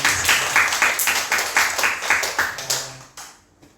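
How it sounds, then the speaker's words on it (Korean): A church congregation at a Sunday worship service claps in unison, a steady rhythmic beat of loud, sharp claps in quick pulses that continues for a few seconds before stopping abruptly. "우리 박수로 한번 환영하겠습니다"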